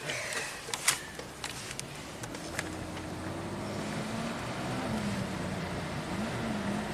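An '85 Oldsmobile engine runs under load while driving, with uneven surging and a few sharp knocks early as it cuts out and bucks at half throttle, a steady low drone underneath.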